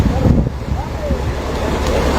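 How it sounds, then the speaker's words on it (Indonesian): Big ocean waves rolling in at Nabire beach, a loud continuous surf roar with heavy wind buffeting the microphone. "Naik sudah ombak besar ya."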